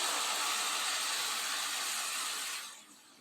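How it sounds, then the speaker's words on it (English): Chipotle stock poured over browned, crumbled vegan burger in a hot pan sets off a loud, steady hiss that fades quickly near the end. No voices are heard. "the crumbled burger has browned and ready for the chipotle stock to be added"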